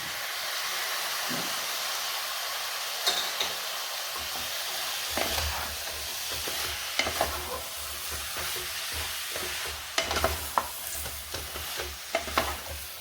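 Hot oil sizzles steadily while a utensil scrapes and stirs tomato masala with chilli powder for chicken gravy, with sharp clicks and knocks against the metal pan now and then.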